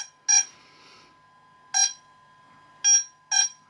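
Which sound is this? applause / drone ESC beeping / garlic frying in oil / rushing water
drone ESC beeping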